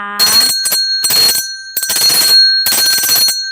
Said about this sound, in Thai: ผมจะเคาะกระดิ่งให้